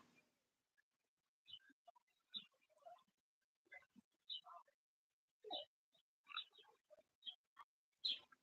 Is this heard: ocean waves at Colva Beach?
no